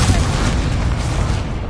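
Incendio fire spell cast in Hogwarts Legacy, a loud, dense fiery whoosh and rumbling burst filling the whole moment, close and sustained without a clear break.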